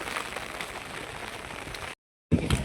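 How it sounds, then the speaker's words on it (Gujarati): Steady rain patters on a surface for a couple of seconds, then cuts out briefly before resuming at the same moderate level. "ઘડીક વરસાદ આવે છે ને ઘડીક વરસાદ આવે છે ને ઘડીક વરસાદ આવતો નથી"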